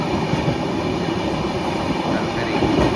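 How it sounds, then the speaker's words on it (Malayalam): Coal freight train rolling past on an Indian railway line near Nagpur, a steady, fairly loud rumble of wagons with faint clatter, continuous throughout with no speech. "കൽക്കരിയായിട്ട് പോകുന്നത് ട്രെയിൻ"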